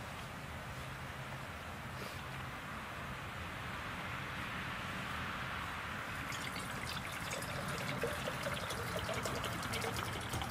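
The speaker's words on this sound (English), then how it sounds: "so we're going to put 16 ounces of water in here." Water pours steadily into a Stanley cup outdoors in the woods, a continuous close trickle that grows slightly brighter and splashier as it fills.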